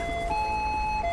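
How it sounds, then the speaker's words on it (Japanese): A steady wailing ambulance siren in GTA 5 sounds continuously and fairly loud, its pitched tones holding through the short stretch. "よし救急車到着、生き返ったみたいだね。"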